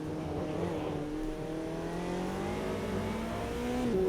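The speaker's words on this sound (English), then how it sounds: "there's cars over there going vroom vroom, race cars" McLaren GT4 race cars revving on the Spielberg circuit in the Automobilista 2 racing game, a steady engine drone with rising and falling pitch sweeps as several cars accelerate, fairly loud and continuous, with no talking.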